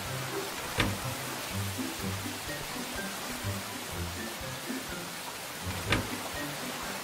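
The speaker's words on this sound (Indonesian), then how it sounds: "terus banget sih ini hujannya" Steady rain pours throughout a cartoon horror-comedy scene, an even wash of hiss with a couple of sharper spikes, while low voices or music murmur faintly underneath.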